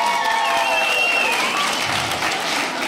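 A comedy club audience claps at a stand-up show, a dense burst of applause from a crowd that runs steadily throughout at close range, with a faint murmur beneath it.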